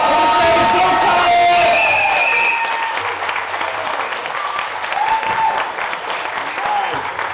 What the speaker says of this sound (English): please start the applause for Phil Sutton. Everyone else join in.